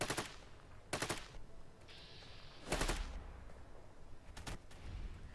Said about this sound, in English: There's the automatic fire.